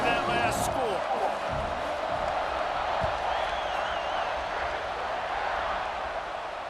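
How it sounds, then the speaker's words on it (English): A college football stadium crowd keeps up a broad, steady roar after a touchdown, filling the whole clip at a fairly constant level with a commentator's voice carrying over it. "this crowd is buzzing after that last score"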